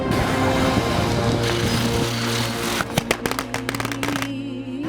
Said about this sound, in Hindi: पटाखे फूट रहे थे।